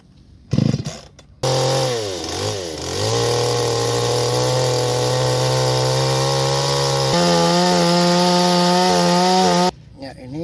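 A power saw cuts through a log housing a black stingless bee (Trigona) nest, a loud, steady whining drone that holds for several seconds and shifts pitch once midway, after a short burst of handling noise.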